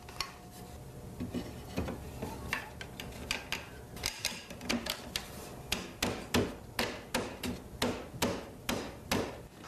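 A mallet taps a rustic wooden furniture frame together, starting with scattered light knocks and settling into a regular series of sharp, close strikes that grow louder toward the end, with no talking.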